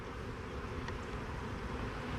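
Bees at a wooden beehive in an apiary give a steady, dense buzzing drone that continues without pause from start to finish, close and moderately loud.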